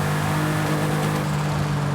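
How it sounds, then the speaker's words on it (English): Porsche Carrera RS 2.7 engine in Forza Horizon 5 drones loudly and steadily at high revs, a sustained close-up engine tone with no talk and no break for two seconds. "the most famous Porsche model, the Carrera you're driving right now"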